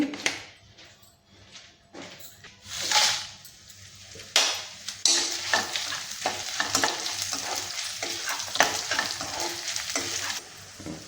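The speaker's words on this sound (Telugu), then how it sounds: "ఇవి కొంచెం ఆయిల్ వేసుకుని ఎండుమిరపకాయలు వేసుకుందామండి" Dried red chillies fry in a little oil in a pan used earlier for peanuts. A steady, close sizzle and crackle run under sharp spoon scrapes that grow denser and busier as it goes on.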